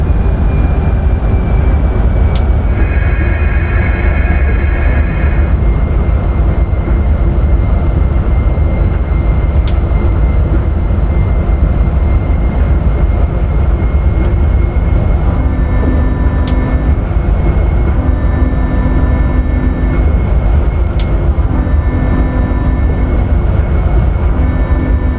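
Santa Fe Express train accelerating on a speed test run through the Sonoran Desert, a steady, loud, continuous engine roar with no pauses. Occasional tonal cockpit chimes sound over it.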